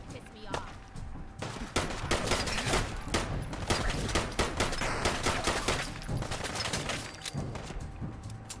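Gunfire in the modded video game Fallout 4 rattles in rapid bursts of sharp shots, loud and dense, with overlapping volleys for several seconds as a voice talks now and then.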